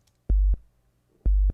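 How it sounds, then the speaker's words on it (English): Two deep synthesized FM8 bass notes, each with a small click at its release, sounding alone and close with a short gap between them. "it's got this little hiccup, this little click at the end of every note."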